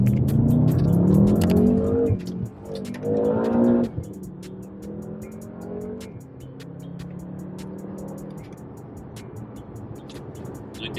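A car accelerates hard on a wet road to dry itself off, engine revving loudly with rising pitch in two strong bursts, then settling into a steadier drone with faint tire noise.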